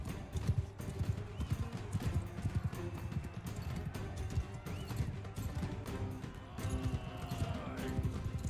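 Horse hooves clip-clop in the medieval combat game Mount & Blade 2: Bannerlord, with rhythmic hoofbeats over a busy battle soundscape of clashes and background noise, fairly faint overall.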